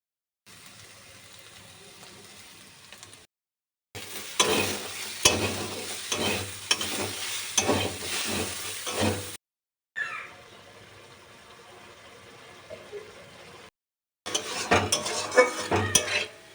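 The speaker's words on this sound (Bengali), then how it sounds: "তো চলো মশলাটা কষাতে থাকবে," Potatoes and spices sauté in a pan, with bursts of sizzling and scraping stirs, broken by short silent gaps. A quieter stretch comes in the middle, and a brief voice is heard in the background.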